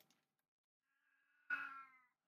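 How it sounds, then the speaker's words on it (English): A domestic cat lets out a single loud, drawn-out meow close by, preceded by a faint rising cry in an otherwise quiet room. "my cat decides to cry like something demented"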